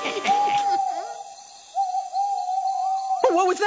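An owl hoots in a long, steady, sustained tone in a cartoon setting, with brief other voices and bird-like sounds at the start and end around the held hoot.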